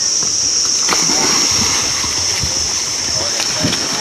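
Someone jumps into a small canal to swim, and loud, close, continuous churning and splashing water fills the whole stretch with a few sharper slaps.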